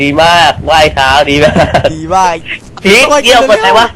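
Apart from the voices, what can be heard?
No distinct noise like a dog, phone or traffic.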